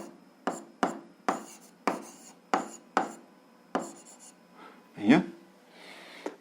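Chalk or a pen taps and scratches in short, evenly spaced strokes while an equation is written out, close and clear, with a brief bump near the end.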